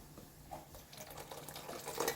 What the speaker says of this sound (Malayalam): ഇനി നമുക്കിതിലേക്ക് ഫസ്റ്റ് തേങ്ങാപ്പാൽ ഒഴിച്ചു കൊടുക്കാം